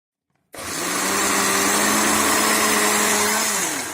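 A mixer grinder blending oranges into juice starts abruptly after a moment of silence, then runs at a loud, steady, high-pitched whir for about three seconds before winding down, with no talking.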